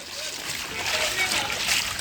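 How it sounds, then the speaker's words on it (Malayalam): Floodwater pouring over a bridge during a major flood, a continuous rushing splash close by with voices talking over it. "ഇതാ പാലത്തിന് മേലെ കൂടെ വെള്ളം പോണ്"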